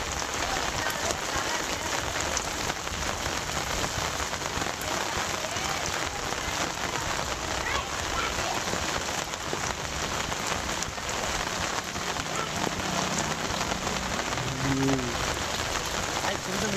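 A heavy downpour that has been pouring for about two hours floods the area, rendering a dense, steady roar of rain beating on surfaces, loud and unbroken throughout.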